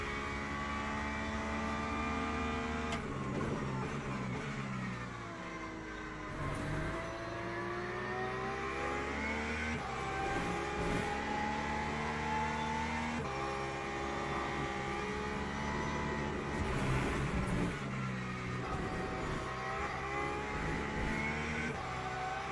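A V8 race car engine in the Le Mans Ultimate sim roars steadily through a lap, its pitch climbing and dropping with repeated upshifts and downshifts, loud and continuous with no talking.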